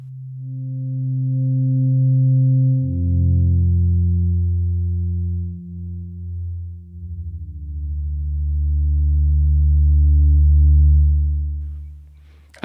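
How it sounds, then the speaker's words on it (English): A steady, pure sine-wave synth tone, mangled to a slightly gritty, distorted edge, sliding between low pitches and holding long notes, alone with no other sounds. "which is just a very simple sine wave that's been mangled in some ways"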